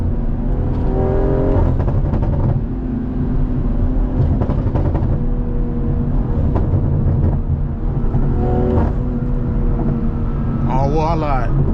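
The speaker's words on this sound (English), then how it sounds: "Just downshift and they get out your way." A tuned 500hp BMW M340i with a downpipe drones loudly in traffic, its engine note rising and falling through revs with sharp bursts as it downshifts and accelerates, while someone talks over it.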